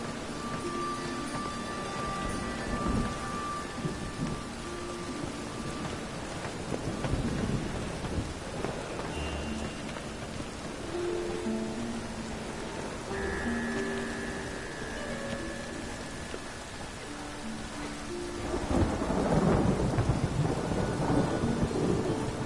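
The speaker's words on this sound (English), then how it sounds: "It's raining again." Steady rain falls with rolling thunder in the Witcher 3 video game. A low rumble swells near the end over the constant wash of rain, with faint tonal game sounds in the background.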